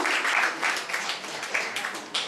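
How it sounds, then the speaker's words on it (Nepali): Crowd applause for a Hong Kong Polytechnic University graduate at a 2013 celebration for new Nepalese graduates in Hong Kong: a steady, moderately loud wash of many hands clapping, with brief swells throughout. "जोरदार ताली बजाइदिउँ"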